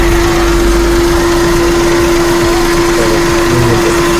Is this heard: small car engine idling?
yes